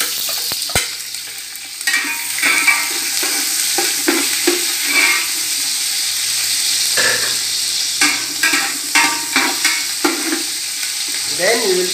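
Onion fries in a hot pan after fish has been browned for sinigang, a steady close sizzle broken by repeated scraping stirs of a utensil, with no talking.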